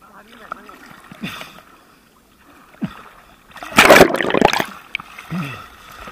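Canoe paddling on a river in Kerala: quiet intermittent paddle strokes and gurgles, then a louder burst of splashing near the middle, with soft knocks and movement around it.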